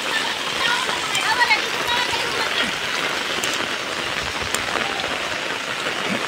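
Heavy rain pours down and water runs along a road, making a dense, constant splashing roar close by with a faint voice underneath.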